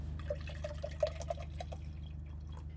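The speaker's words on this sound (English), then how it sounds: "I'm gonna pour some water in here and see if it even works" Water trickling and dripping into an Aeropress Clear coffee brewer inside a car, a light irregular splashing over a steady low engine-like hum.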